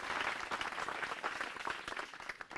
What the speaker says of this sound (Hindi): ये तालियों की गड़गड़ाहट जिला पाली गांव गाजनगढ़ वहां से आ रही है